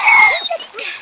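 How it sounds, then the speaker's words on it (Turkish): Hunting dogs yip and whine excitedly up close as they are released in a pasture in Kırklareli, mixed with people talking over them. "Şimdi köpekleri salıyoruz."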